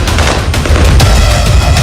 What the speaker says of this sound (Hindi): मोहल्लों के बख्तरबंद गाड़ियों में सवार अफगान सैनिक ढूंढ ढूंढ कर आतंकवादियों पर गोलियां दाग रहे हैं।